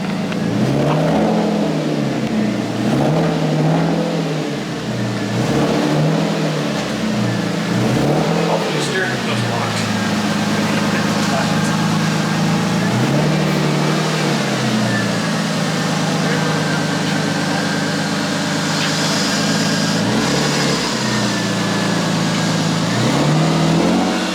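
A car with a welded differential revs and accelerates through repeated surges while turning around, engine loud and close from inside, with people talking over the engine noise.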